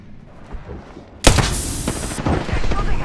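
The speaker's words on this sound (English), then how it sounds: "They're shooting at me." Apex Legends gunfire bursts in suddenly after a quiet stretch of low talk: a loud volley of rapid shots, then continued popping fire and rumbling impacts close by.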